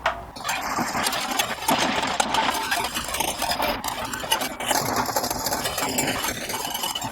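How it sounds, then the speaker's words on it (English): Egg whites being whisked toward stiff peaks for a salt crust on a whole salmon, a loud continuous whirring and rattling whisk that runs steadily throughout with no one speaking. "So now let's get whisking."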